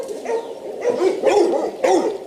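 A hunting dog in a yard kennel bays and barks in close, loud bursts, three or four throaty calls in quick succession.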